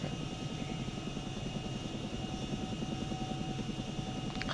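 Chinook twin-rotor helicopter hover taxiing in the ArmA video game, a steady loud rotor and engine drone with constant rhythmic blade chop throughout, no voices.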